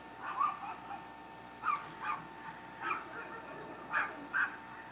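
Dogs bark in a home while makeup is being applied, several short yips and barks in clustered bursts, moderately near but not loud, with no talk over them.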